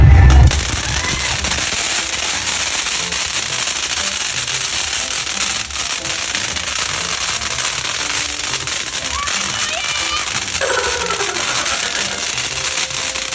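New Year fireworks and firecrackers burst continuously, a dense loud crackle of overlapping pops and bangs that runs throughout without a pause.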